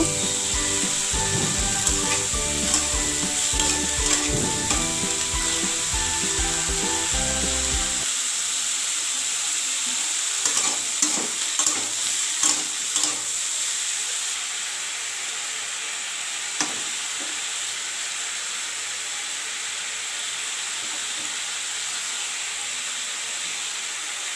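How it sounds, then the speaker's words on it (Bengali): Soft frying sizzle and hiss of cauliflower and potatoes in a pan over a stove, steady throughout, with occasional clinks and scraping; an early stretch has music-like tones over it. "আর এই উনানে যে ফুলকপি আর আলুটা ভেজে নেব"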